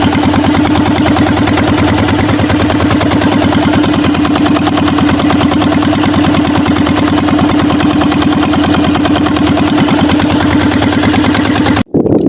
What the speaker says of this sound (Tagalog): Papaandar na lang po ako ng makina.